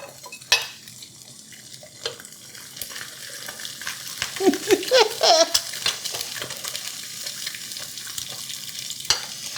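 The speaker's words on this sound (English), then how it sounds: "Sometimes eggs have to cook a minute before they'll stick in the release." Eggs frying in a Caraway nonstick ceramic pan, with a crisp close sizzle, a spatula scraping and tapping against the pan, and brief clinks of cookware.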